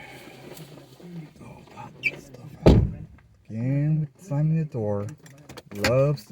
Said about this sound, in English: Again with slamming the door.